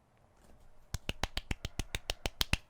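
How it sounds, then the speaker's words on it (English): About a dozen soft, evenly spaced claps sound in a quick steady rhythm, a small polite golf-style applause heard close and alone. "Little golf clap for us there."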